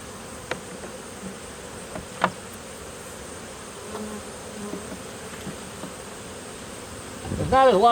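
Honey bees buzz around an open hive during an October fall inspection, a steady, fairly faint hum broken by a few soft clicks and knocks, with louder close handling noise near the end.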